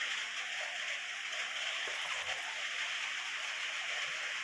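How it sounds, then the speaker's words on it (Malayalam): Steady rain falls outdoors around a house in Kerala, an even, close hiss of drops with no voices, one brief soft knock partway through. "മഴ മഴ"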